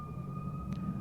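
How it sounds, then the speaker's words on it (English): An ambulance or fire truck siren holds a steady high wail close by over a low rumble of traffic, with a brief noisy burst partway through. "I'm gonna wait for this ambulance to pass though."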